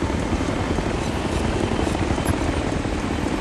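A hostile helicopter in Ghost Recon: Future Soldier thunders steadily nearby, its dense rotor chop and engine roar loud and continuous without any speech.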